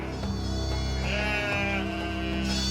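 Lambs bleat in repeated, overlapping, wavering cries, loud and close, over a steady low background hum.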